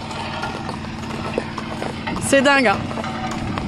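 A horse's hooves clop steadily on the way to the farrier with a car nearby, while someone talks over them and a brief tonal squeal rises mid-way.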